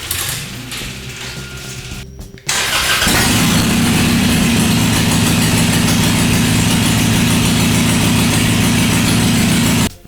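A Harley-Davidson Iron 883 motorcycle engine fires up after a brief mechanical clatter, then settles into a loud, steady, close idle with a rapid lumpy pulse.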